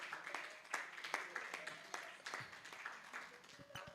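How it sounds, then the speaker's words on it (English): Audience clapping for a winning team at a live-streamed innovation competition announcement, scattered, fairly faint claps with irregular sharp hits across the clip. "Let's keep clapping for them."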